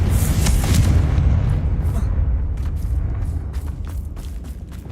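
A Confringo spell goes off in Hogwarts Legacy as a heavy boom that hits hard at once and then rumbles on, fading slowly across several seconds with a few small pops in the tail.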